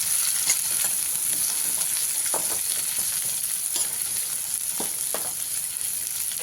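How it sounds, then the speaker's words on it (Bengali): Chopped onions frying in a pan over a low gas flame make a steady, even sizzle with a few brief scraping stirs and pops, close and moderately loud, with no one speaking. "পেঁয়াজটাকে হালকা করে ভেজে নিতে হবে গ্যাসের ফ্লেমটা এখানে লোতেই রাখবেন দিয়ে পেঁয়াজটাকে ভেজে নেবেন"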